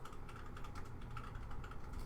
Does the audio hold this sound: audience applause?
no